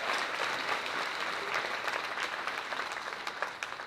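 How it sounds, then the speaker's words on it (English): Steady applause from an audience at a Canine Companions assistance-dog graduation ceremony, many hands clapping evenly at moderate volume for a graduate, thinning slightly toward the end. "Another round of applause for graduate Jen."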